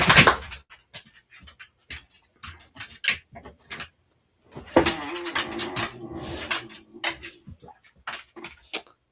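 A hungry dog whimpers and whines in short, soft bursts in a billiards hall, mixed with scattered clicks and brief human sounds, with one longer drawn-out whine in the middle.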